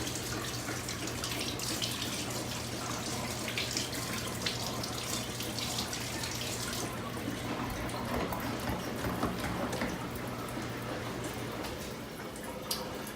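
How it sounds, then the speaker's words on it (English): Hands rinsed under a running kitchen tap: a steady, close stream of water splashing in a sink, with a slight change in tone partway through. "So I'm going to rinse my hands off."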